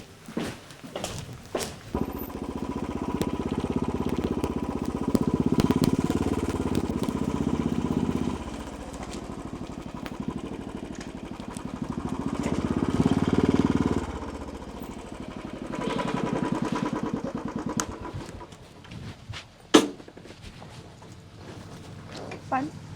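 A motorcycle engine drones steadily while riding, rising and falling in two long swells with throttle changes, accompanied by wind rumble and a sharp knock near the end; people talk over it.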